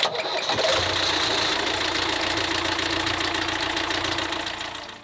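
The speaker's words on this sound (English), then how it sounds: "With the port engine back up and running" A sailboat's port engine runs steadily after repair, a continuous mid-pitched mechanical drone with a faint knocking texture, close and alone, starting up in the first second and holding level throughout.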